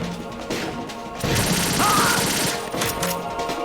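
Rapid automatic AK rifle fire from the video game Metal Gear Solid 2, a dense burst of crashing shots lasting over a second, loud and close, with game sounds before and after.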